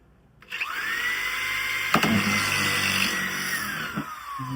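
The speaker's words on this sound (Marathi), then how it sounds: "आता एक काम करून पूर्ण होल मारून घेऊया एकदाच" A power drill boring a hole whines steadily for several seconds after starting up, a continuous high motor tone with a brief clunk partway through.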